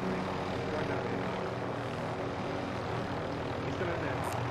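Helicopter in a multiplayer shooter video game, a loud, steady whirring rotor and engine drone filling the whole moment at close range.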